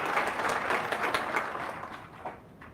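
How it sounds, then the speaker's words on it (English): An audience at a military staff college graduation ceremony gives a round of applause, a dense wash of many hands clapping that slowly fades. "A big round of applause, ladies and gentlemen,"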